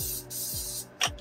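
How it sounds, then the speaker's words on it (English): Cooking oil spray hissing onto a hot pan in a van kitchen, two short bursts: a long sustained spray followed by a brief second puff, with low clatter under it. "Just give them a spray"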